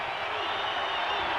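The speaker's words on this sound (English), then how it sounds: "That gets the crowd going at Hilton Coliseum." A basketball crowd roars at Hilton Coliseum during an Iowa State versus UNI game after a made basket, a dense, sustained wall of cheering that fills the arena.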